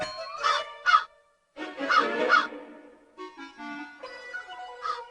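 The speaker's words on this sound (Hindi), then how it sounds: "देखिए हुजूर, ये कौवा कैसे काव काव कर रहा है।" A crow in an animated Akbar and Birbal folk tale gives several loud, harsh, honking caws in short bursts separated by brief pauses, close and alone with no talking.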